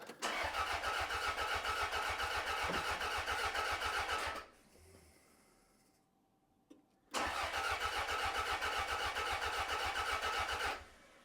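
A Toyota Celica GT4 left parked for eight years cranks on its starter without catching: a long steady rhythmic churning, a pause with faint clicks, then a second equally long crank.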